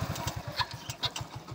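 A motorbike engine idles with a steady low pulsing throb while two riders take it up a steep hill near Murree, with a few faint higher clicks over the running engine.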